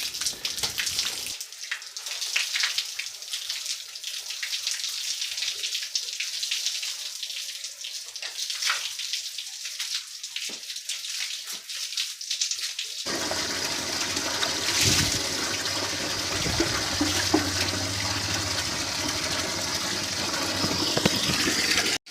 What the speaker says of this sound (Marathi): पाणी आता आलेलं आहे.